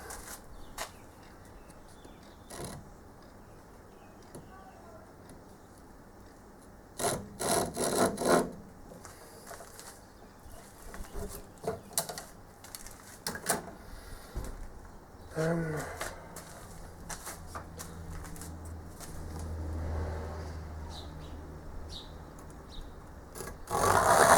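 A brand-new hand saw cutting wood during patternmaking, its rasping strokes coming in bursts with pauses between them, close by, with some talk mixed in.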